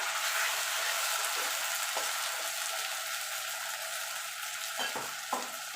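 A ginger, garlic, green chili and tomato paste sizzles and fries loudly in a pan with browned onions, a steady hiss with occasional stirring scrapes and no talking.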